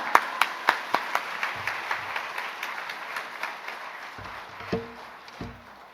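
Scattered, sparse claps from a church congregation welcoming a missionary, a few sharp distinct hand claps early that thin out, with occasional low thumps and quiet murmuring beneath.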